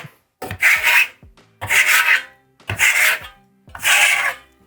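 Steel burnishing trowel sweeping Venetian plaster across a wall in four long rasping strokes, each a broad scraping swish with short pauses between, close and clear with no talk.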